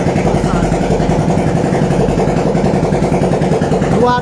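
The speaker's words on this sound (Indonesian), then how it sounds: "ini motor 2 tahun belum mau dihidupin, mau dicoba dihidupin" A motorcycle left unused for two years runs after being started, a loud close engine chugging in a steady rhythmic idle while people talk nearby.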